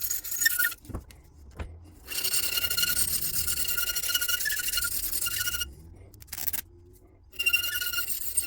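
Custom guitar pick being hand sanded, bursts of close, gritty rasping strokes separated by brief silences, with a couple of faint taps in a quiet gap.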